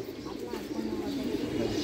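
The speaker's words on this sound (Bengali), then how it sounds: "কবুতর দেখছো? কবুতর দেখো" Pigeons in a loft give a steady, low cooing murmur close by, continuous and moderately loud, with faint voices in the background.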